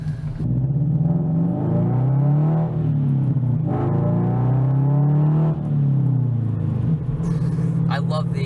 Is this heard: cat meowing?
no